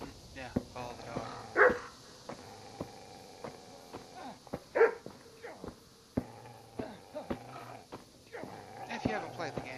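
A dog in Kingdom Come Deliverance barks in a few short, sharp bursts, with footsteps and other game sounds around it and a voice talking over parts of it.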